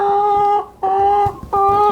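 Backyard hens cluck in three sustained, tonal calls separated by brief gaps, loud and close with no talking.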